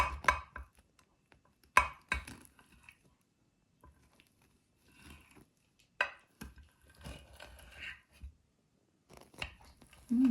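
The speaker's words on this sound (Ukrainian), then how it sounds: "Розрізаємо. на шматочки." Knife cutting a baked cherry pie into pieces, a few sharp cutting and squishing bursts separated by quiet pauses, close and fairly faint.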